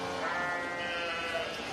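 Sheep bleating inside a lambing shed, a sustained wavering bleat with other flock noise around it, fairly close and steady.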